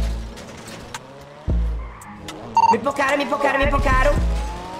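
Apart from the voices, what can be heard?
car driving past in a video game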